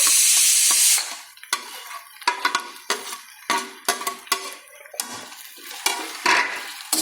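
Whole ladies finger drops into a pan with browned onions and is stir-fried, a loud burst of sizzle followed by rhythmic metal spoon scrapes against the pan over crackling oil, with no talk.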